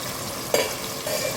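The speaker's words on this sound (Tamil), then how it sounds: "கருவாடு மொச்சக்கொட்டை இதெல்லாம் நல்லா எண்ணெயிலே கொஞ்சம் வேகணும்" Dried fish and lima beans fry in oil for a curry, with a soft continuous sizzle and one sharp stirring clatter partway through.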